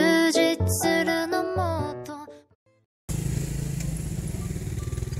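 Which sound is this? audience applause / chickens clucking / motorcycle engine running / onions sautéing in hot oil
motorcycle engine running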